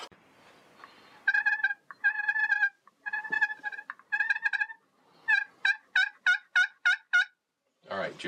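A slate turkey call worked by hand imitates a turkey's purring and yelping: several bursts of raspy, stuttering notes, then a string of six or seven evenly spaced sharp yelps, close and clear with no talking.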